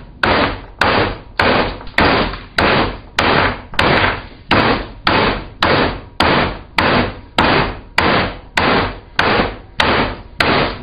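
Steel armor plate, deformed, being hammered back into shape on a table, about sixteen heavy metallic blows at a steady rhythm roughly every two-thirds of a second, each ringing briefly, close and loud with nothing else heard.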